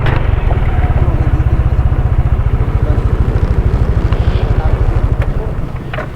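Motorcycle engine idling steadily up close on a mountain road near the Badiwan Tunnel on Marcos Highway, a rapid even putter thrumming throughout with wind buffeting the microphone and faint voices.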